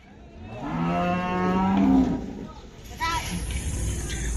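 Cattle low loudly and close by at a busy Qurbani livestock market in Hazratpur, long drawn-out moos rising over a crowded background din with people talking.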